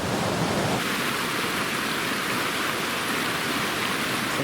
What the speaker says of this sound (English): I guess this is Cunningham Creek.